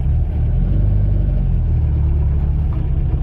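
A 1973 Porsche 914 Targa with a 2.0-litre engine and manual gearbox pulling away, its engine a steady, loud low drone heard from inside the car at an even level, with no one talking.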